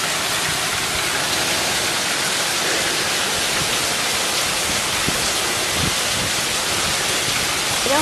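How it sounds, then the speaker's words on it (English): Heavy rain pours steadily outdoors, a dense, loud broadband hiss with no letup, like a downpour drumming on surfaces all around. "raining like crazy"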